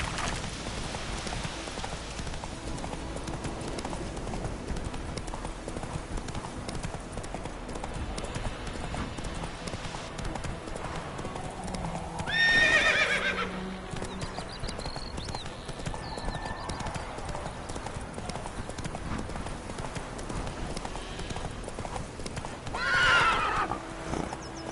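Horse hooves clip-clop steadily on the ground in the video game Witcher 3, with two distinct neighs or whinnies rising above the hoofbeats partway through and near the end, under a light rain-like background.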